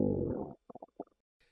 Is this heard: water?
no